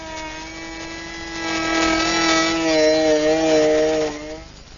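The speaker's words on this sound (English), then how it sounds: "I'm running the router at the slowest speed and not trying to do it all at once" A router with a large bit runs at its slowest speed while shaping a wooden flagpole, giving a steady loud tonal whine that rises as the bit bites into the wood and then eases off.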